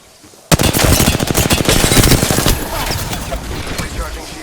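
Rapid automatic gunfire in Apex Legends bursts in suddenly after a quiet moment, a loud dense string of shots for about two seconds, then a rougher, fading wash of firing and impacts.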